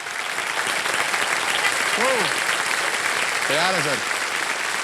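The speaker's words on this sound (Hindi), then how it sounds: "तालियां बज जाए इन लोगों के लिए" Studio audience applauding on the set of a TV quiz show, a steady broadband wash of clapping throughout, with a voice speaking briefly over it.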